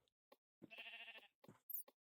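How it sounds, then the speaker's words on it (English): A single sheep bleats in modded Minecraft, one clear, steady, wavering bleat near the middle, framed by faint clicks and a short high blip, with no talking. "I hear a sheep"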